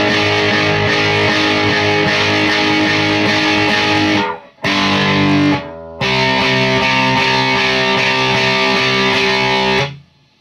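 A distorted electric guitar plays a song's riff, loud and sustained, with repeated strummed chords, a brief gap near the middle and a clean stop at the end.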